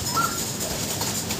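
A pure white racing pigeon coos softly in a pigeon loft, a low murmuring call set against steady background hiss, with no talking.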